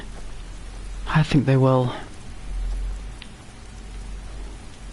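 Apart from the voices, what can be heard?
heavy rain in the video game Skyrim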